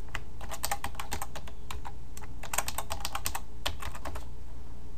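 Steady, rapid keystrokes on a computer keyboard as names and values are entered into a simple database, clicking in quick bursts with brief pauses, close and clear with no talking.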